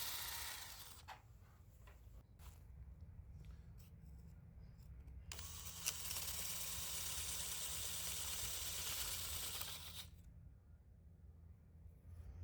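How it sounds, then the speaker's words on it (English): Drill boring into a rock planter that has soaked in water, a steady high whine that starts and stops in sustained runs, close and fairly quiet. "To make it easier to drill into the rock, I've had the planter sitting in a tray of water."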